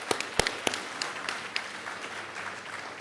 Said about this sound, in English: I would like you to start by giving yourselves a very warm round of applause.